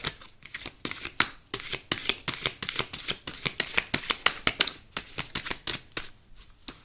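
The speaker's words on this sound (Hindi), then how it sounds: "चलिए लास्ट शफल करते हैं एंड मैं फटाफट फिर डिस्ट्रीब्यूट करती हूँ।" Tarot cards being shuffled by hand, a quick run of crisp riffling flicks and soft slaps repeating steadily at close range with no voices.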